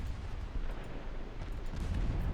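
Torpedoes striking a warship in a naval strategy game, a dense rumbling roar of blasts that rolls on steadily, low and heavy, with no talking.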